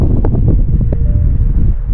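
Wind on a hike up Mount Eisenhower, New Hampshire, buffets the microphone in a steady, loud, low roar with gusty fluctuations throughout.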